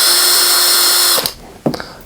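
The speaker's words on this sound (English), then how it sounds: "I'm going to go ahead and use a drill, and I'm going to support this screen while I'm doing it." A power drill whines steadily at high speed while backing out the screws of a Peloton bike's monitor mount, then stops, leaving a few brief clicks and knocks.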